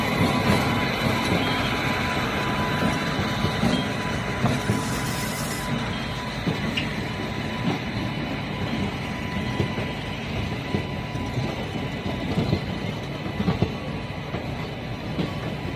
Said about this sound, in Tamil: ரொம்ப யூஸ்ஃபுல்லான ஒரு ஆஃபீஸ் ட்ரெயின் பாருங்கள்